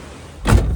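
A single heavy thud of a door being pushed shut, followed by a short rumbling tail against quiet background hiss.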